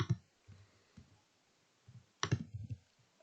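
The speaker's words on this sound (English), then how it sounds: "I type in Liverpool." Keys tapped on a computer keyboard while typing a search into a coach holiday booking website: a few scattered soft clicks, then a quick cluster of keystrokes near the end, close and quiet.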